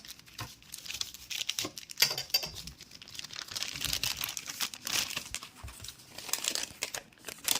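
Packing paper crumpled by hand while unboxing a new music keyboard, close, loud crinkling and rustling in irregular bursts with no talk.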